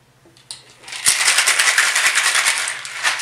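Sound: cocktail shaker being shaken

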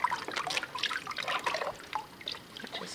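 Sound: water dripping from pressed paper pulp under screen

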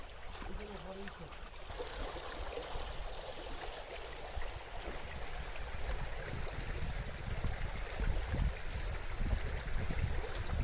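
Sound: stream flowing

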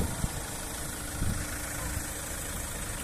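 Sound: Chevrolet Captiva 2 litre diesel engine idling

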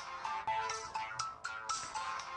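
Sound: phone ringtone, incoming call

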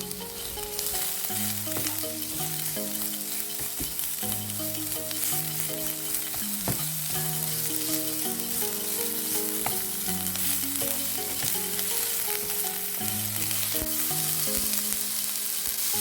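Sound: stir-frying minced pork with shallots

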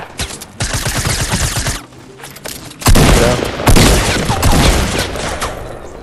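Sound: gunfire in the video game Fortnite

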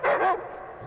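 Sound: dogs barking in a video game

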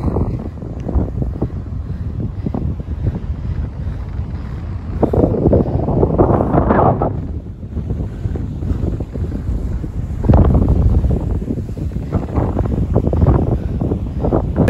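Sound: strong wind on a hilltop by the beach

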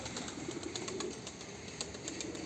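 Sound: bird in a chicken coop, likely pigeon cooing

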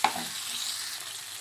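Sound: grated coconut frying in a pan

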